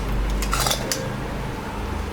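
Jaggery melting in a pot is stirred for puffed rice balls, a burst of scraping, clattering strokes against the metal near the start, then a quieter steady simmer with no talk.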